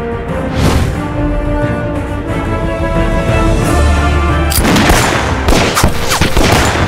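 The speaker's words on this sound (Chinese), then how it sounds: "敢对老子开枪！" Dense, loud gunfire in a kung fu anti-Japanese war film battle, continuous volleys of shots with a heavier burst of sharp cracks breaking out partway through.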